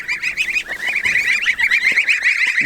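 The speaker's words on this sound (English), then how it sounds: "It's time to move these geese." Geese honking repeatedly in a close, noisy flock on a farm where they are moved daily to fresh grass, with chickens nearby; a steady overlapping chorus of calls with no talking.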